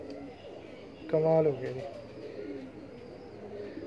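Pigeon cooing from a rooftop breeding loft, a short burst of soft cooing over a quiet background while someone speaks nearby.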